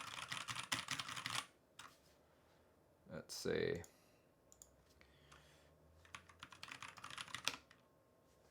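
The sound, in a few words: typing on KBDFans KBD67 MKII RGB mechanical keyboard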